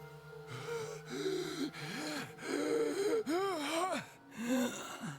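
A character breathes heavily in Zero Time Dilemma, a run of ragged, gasping breaths with wavering vocal tones that rise and fall over about five seconds, close and alone with no words spoken.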